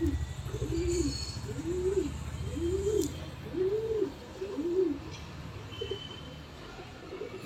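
A handled pigeon that once flew nine hours coos close up in about five rounded, rising-and-falling calls at a steady pace, then quiets, with a faint low rumble beneath.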